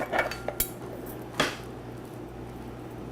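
A spoon clinks and scrapes against a pan as food is spread around over tomatoes, a few sharp metallic taps spaced irregularly over a low kitchen hum, no talking.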